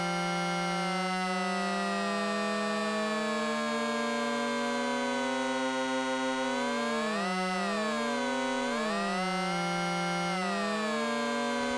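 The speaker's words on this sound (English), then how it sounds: "if I go in and I drastically hit on the pitch, one is going to be going way up, one is going to be going way down" Bitwig synth voices hold a dense, buzzy chord, then two of the voices sweep apart in pitch, one rising and one falling, bending and crossing in wavering swoops before settling back. The tone is steady and loud, with no talk.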